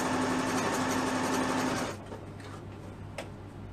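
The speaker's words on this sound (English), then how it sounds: "I'm actually sewing through the bottom of the elastic because this is a stretchy thread." A sewing machine runs steadily, stitching elastic onto children's leggings with a continuous whirring hum, then stops just before two seconds, leaving quiet room noise and a soft click.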